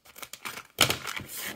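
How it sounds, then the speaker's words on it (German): Scissors cut into packaging holding six-year-old Lego-style minifigures: a few quiet snips and rustles, then a sharp, louder burst of tearing plastic and crinkling that fades out. "Da ist die Schere und wir schneiden das Ganze jetzt einfach mal auf."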